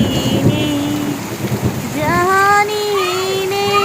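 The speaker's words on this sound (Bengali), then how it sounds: "বৃষ্টি হচ্ছে" Steady, heavy rain pours with deep rolls of thunder underneath, a continuous close wash of sound joined by a sustained tonal voice-like hum partway through.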